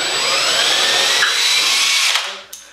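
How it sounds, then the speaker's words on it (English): A power drill bores a hole through a bathroom wall for a grab bar, a loud, steady high whine close up that cuts off abruptly, followed by a brief clack. "Drill a hole, they get inserted, they open up"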